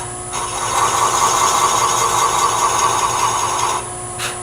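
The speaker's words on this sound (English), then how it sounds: "I'm using the flat of a skew chisel" A skew chisel presses flat against spinning wood on a lathe to round over a corner, giving a close, steady scraping hiss over the motor's low hum that lasts about three seconds before stopping.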